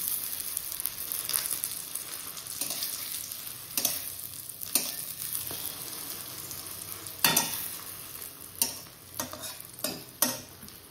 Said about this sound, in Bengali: আর এখন ভাজি হচ্ছে ডিম